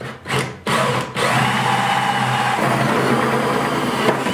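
A power drill fitted with a 3.5-inch hole saw bores through a 5-gallon plastic bucket, giving a loud, steady close whine after a couple of brief starts, with the pitch dropping slightly partway through.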